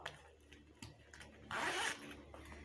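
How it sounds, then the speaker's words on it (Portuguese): A zipper on a school backpack is pulled in one quick, close rasping stroke, preceded by faint handling clicks and fabric rustle in a quiet room. "É que tem dois zíper, né?"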